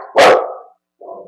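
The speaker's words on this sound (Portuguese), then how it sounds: "meu cachorro se assustou aqui" A startled dog gives one loud, close bark, followed after a short silence by a softer, lower whine-like yelp.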